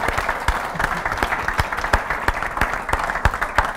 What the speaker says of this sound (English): So round of applause for the Cavan Ladies Board.